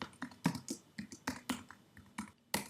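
Keys on a computer keyboard are struck in a quick, irregular run of crisp close taps and clicks, some louder than others, with short gaps between bursts and no voices.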